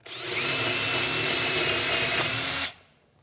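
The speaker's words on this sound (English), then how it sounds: "we've got our 11/32, and we're definitely in oak. So we'll drill a hole" A power drill bores an 11/32 hole in oak, making a loud, steady whirring grind for about two and a half seconds before stopping abruptly.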